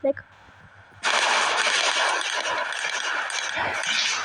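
A gun in the Melon Playground video game fires a rapid, continuous burst of loud, crackling shots lasting about three seconds after a brief quiet moment.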